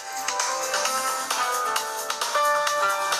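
A telephone ringtone plays a steady, fairly loud melodic pattern of repeating electronic tones for about three seconds, with no voices over it.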